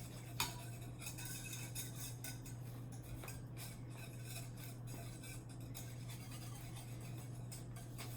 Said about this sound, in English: I'm supposed to be whisking constantly